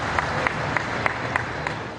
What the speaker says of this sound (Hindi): एक बार पूरा सदन ताली बजाकर